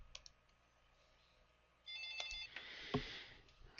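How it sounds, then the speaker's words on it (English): A phone rings briefly in a quiet room, a faint electronic trill lasting about half a second, followed by soft rustling and a muffled thump. "now my phone's ringing"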